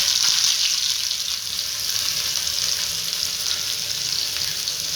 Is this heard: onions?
yes